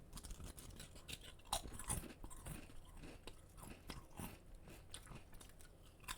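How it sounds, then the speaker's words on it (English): Crunchy potato chips being bitten and chewed close to the microphone, a rapid run of sharp crisp crunches and munching in quiet ASMR style with no talk. "Chip ASMR for my beautiful babies. I hope you guys like the sound of eating."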